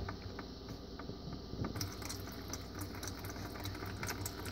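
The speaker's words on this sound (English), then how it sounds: "Let the water leak slowly so that you don't mess up the area." Water trickling slowly out of a loosened joint on a clogged kitchen sink drain pipe, a steady faint gurgling flow with soft splashes, close and continuous, no voices.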